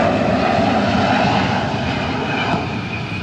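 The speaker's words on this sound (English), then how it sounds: "let the little airplane go and do its thing" A small airplane flies overhead outdoors, its engine a steady, loud droning roar that holds throughout and eases slightly toward the end, with no voices.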